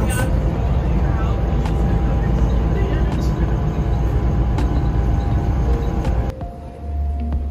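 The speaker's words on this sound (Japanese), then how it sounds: "それではメトロに乗って帰ります。" A metro train ride in the Netherlands, with a steady loud rumble of wheels and carriage running throughout, faint voices and occasional clicks underneath, easing as the train slows near the end.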